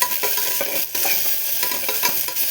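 Green chillies sautéing in a hot pan, a close, steady sizzle broken by repeated scrapes and stirs of a utensil against the pan at an uneven rhythm.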